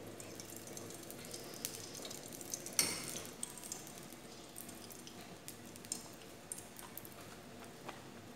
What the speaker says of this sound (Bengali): তেল ছিটে আসছে